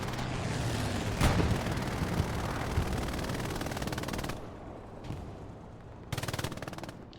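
Rapid machine gun fire rattles continuously in Hell Let Loose's wartime battle at St Marie du Mont, with a loud burst near the start, then distant bursts and a renewed close burst near the end; no voices.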